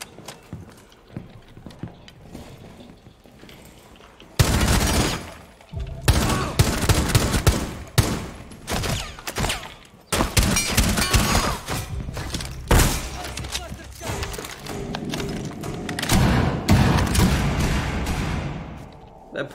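Rapid bursts of gunfire in the tactical shooter Rainbow Six Siege, loud and dense in clustered volleys with thuds between, starting after a quieter opening.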